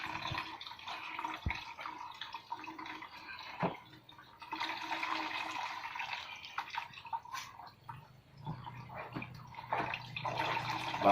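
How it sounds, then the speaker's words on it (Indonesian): Coconut milk is squeezed and poured through a strainer, producing splashing and trickling liquid in uneven bursts, with a few sharp knocks and drips between pours, close by with no talking. "kita ambil sarinya dengan cara disaring seperti ini, kita tuangkan aja ke dalam saringan santan ya"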